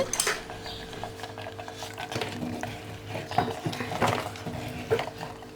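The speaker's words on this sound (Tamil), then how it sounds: "இப்போ பொங்கலில் சேர்த்துட்டு நல்லா கிளறி விட்டுருங்க" Sweet pongal being stirred in a pot, a utensil scraping and clinking against the metal in irregular close strokes, with faint sizzling underneath.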